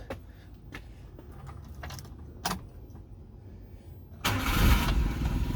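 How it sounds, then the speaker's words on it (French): Keys jangle in a few short bursts before a 1993 Suzuki Carry 4WD mini truck with difflock cranks over. Near the end its engine catches and settles into a close, steady idle. "Il resterait peut-être juste à démarrer l'engin pour entendre"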